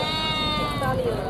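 At a sheep market in Dera Ghazi Khan, a sheep gives a brief wavering bleat amid a noisy crowd, with people talking close by.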